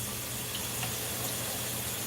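Steady rush of water running from a kitchen tap, a continuous close splashing hiss with no pauses.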